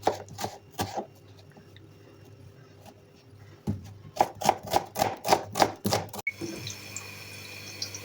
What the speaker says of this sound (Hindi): प्याज काट लेंगे। स्लाइसेस में काटना है प्याज को।